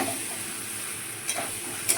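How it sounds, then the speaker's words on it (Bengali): Boiled hog plums stir-fried with potatoes in a pan, giving a steady close sizzle with two brief scrapes of a spatula near the end. "এবার আমড়াগুলো সিদ্ধ আমড়াগুলো দিয়ে দেবো ভালো করে। এবার আমড়াগুলো একটু কষিয়ে নেবো।"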